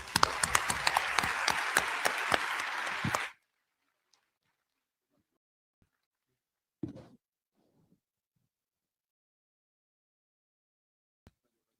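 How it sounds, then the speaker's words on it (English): Brief burst of audience applause for a Senegalese singer at an opening ceremony, loud and dense for about three seconds, then cut off to near silence broken by a few faint isolated sounds. "a round of applause for Mr."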